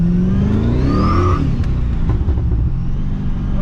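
Pontiac GTO engine revving hard under acceleration, a loud mid-pitched roar rising in pitch over the first second and a half, then a sustained rough, gritty drone with broadband tire-spin noise continuing to the end.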